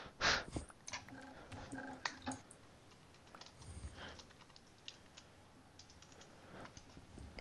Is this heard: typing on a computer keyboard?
yes